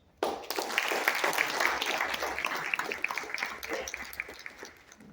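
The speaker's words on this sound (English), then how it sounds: "I request you all to please give standing ovation with big round of applause for sir." An audience applauds Dr. Rajendra Shende after his talk on circular economy and net zero. The clapping starts abruptly and continues as a dense, steady round of applause, easing slightly toward the end.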